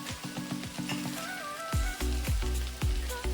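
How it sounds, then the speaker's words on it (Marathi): Okra (bhindi) sautés in a pan for a masala dish, a constant close sizzle of frying broken by rhythmic scraping knocks of stirring, with no talking. "भेंडी ना इथं शिजलेली सुद्धा आहे आपली बऱ्यापैकी आणि छान परतलेली सुद्धा आहे।"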